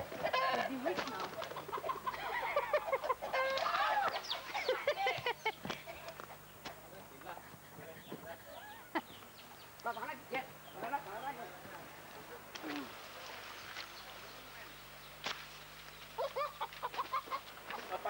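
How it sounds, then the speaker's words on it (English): Chicken clucking at a full moon party on Ko Phangan, Thailand, with short bird calls scattered through nearly twenty seconds amid lively chatter and talk from nearby people. "Look at this chicken"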